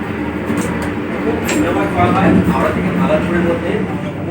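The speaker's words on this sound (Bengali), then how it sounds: "এখন আমাদের ট্রেন প্রবেশ করলো বর্ধমান জংশন" A passenger train rolls into Bardhaman Junction station in West Bengal, with a steady, close rumble of wheels and carriages throughout and people talking over it.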